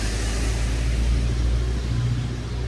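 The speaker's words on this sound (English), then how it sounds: "the car is going, so you don't hear me" A car on a London street drives past close by, its steady low rumble filling the moment with no voices.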